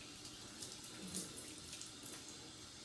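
Tap water runs steadily onto a shaving brush to rewet it, a continuous close splashing flow with no voices over it.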